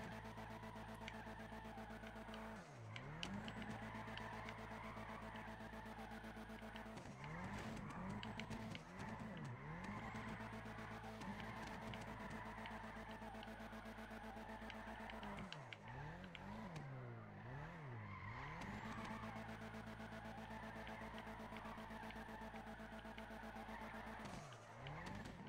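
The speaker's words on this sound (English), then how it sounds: "Let's just get into the drifting." A car drifting in GTA V on a FiveM drift server, its engine revving hard and continuously with repeated drops and climbs in pitch as the tires skid, heard quietly throughout.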